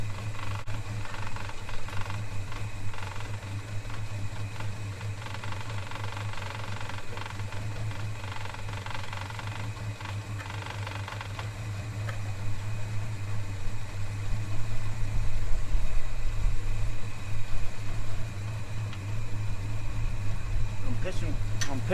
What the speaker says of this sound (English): I do have my idle a bit low.